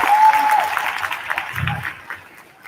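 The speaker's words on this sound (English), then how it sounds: "Let's give them a round of applause." Applause from a high school graduation audience for the Class of 2021, a dense crowd clapping that is loudest at the start and slowly thins out over a few seconds.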